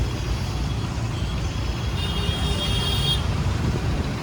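Steady low rumble of a road traffic jam near a new bus stand in Coimbatore, continuous engine and road noise with a faint brief high whine partway through.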